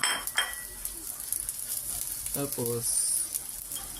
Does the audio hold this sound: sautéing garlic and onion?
yes